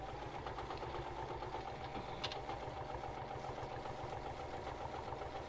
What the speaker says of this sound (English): I'm stitching as close to the edge of the lining as I'm comfortable with.